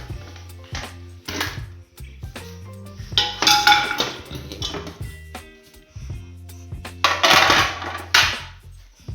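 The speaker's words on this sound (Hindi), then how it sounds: "ये मेरे पास धुले हुए पाए हैं, ये मैं पहले इसके अंदर ऐड करूँगी।" Washed goat trotters for paye are dropped into a metal pressure cooker, giving clattering clinks and knocks of bone against metal in several short bursts, close and fairly loud, with brief pauses between.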